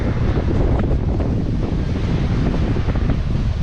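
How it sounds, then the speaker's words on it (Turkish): Strong wind roars and buffets the microphone without a break on a seashore, with the churn of rough sea waves blended into the loud, steady noise. "gerçekten çok rüzgarlı ve dalgalı bir hava var"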